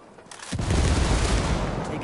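A grenade blast followed by gunfire in the video game Ghost Recon Wildlands: a quiet half second, then a loud burst of sustained, dense battle noise that fills the rest of the moment without pause.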